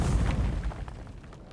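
A deep, rumbling grenade blast in a video game, booming at the start and fading out over about a second.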